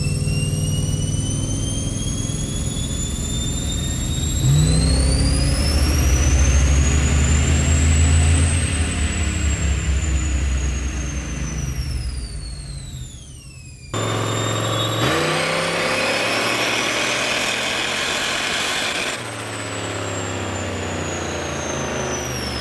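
A turbocharged police car's engine revs hard on a dyno, a loud sustained roar with rising whine, a brief dip mid-run, then a second long full-throttle pull with turbo whistle.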